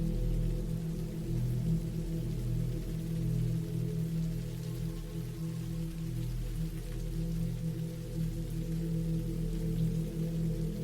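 Rain falls steadily on a surface, a continuous soft patter with a low, even hum beneath, unchanging and calm throughout with no voices.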